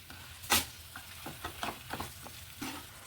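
Half a kilo of chicken with lemon juice and salt sizzles in a pan while a spoon stirs it, a sharp scrape near the start followed by a run of softer, rhythmic stirring strokes over steady frying.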